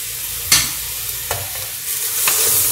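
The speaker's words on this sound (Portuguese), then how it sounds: "Aí já deixei dar uma fritadinha" Chicken breast fries in a pan with tomatoes, salt and pepper, giving a bright continuous sizzle broken by a few sharp stirring scrapes and clanks, close up and with no talking.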